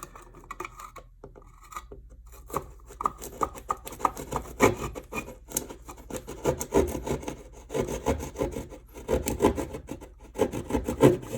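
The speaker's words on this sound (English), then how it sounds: "Now let's enlarge the hole." A hand tool rasps and scrapes against a wall, enlarging a hole for a new power outlet beside a wall switch, in irregular bursts of gritty rubbing strokes, close and fairly loud with brief pauses.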